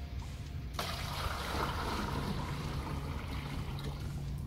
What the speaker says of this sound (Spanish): Vamos a echarle agua caliente.